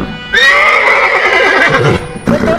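A horse at a village fair gives a loud, close whinny lasting over a second, then a shorter neigh follows after a brief pause.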